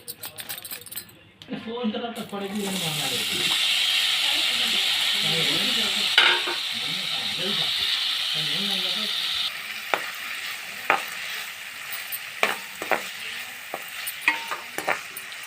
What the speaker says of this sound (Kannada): ಇದೇ ಚೆನ್ನಾಗಿ ಫ್ರೈ ಮಾಡ್ಕೋಬೇಕು.